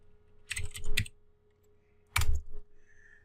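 A computer keyboard clicks in two short bursts of typing separated by a pause, close, quiet and crisp, with no voices.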